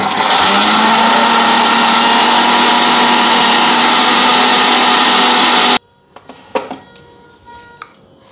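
Spices are ground in an electric mixer grinder, a loud, steady motor whine for several seconds that cuts off abruptly. A few sharp clunks and knocks follow as the jar is handled.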